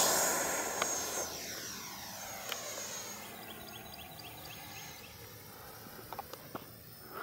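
Freewing Zeus 90mm RC electric ducted-fan jet at full throttle on a speed run down a road, a loud steady high-pitched whine whose pitch sweeps down as it passes close by, then continues farther off.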